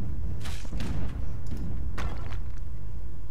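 Mortar shells slam into buildings in the strategy game Age of Empires III, with several heavy booming impacts and crumbling crashes over a dense, loud battle rumble.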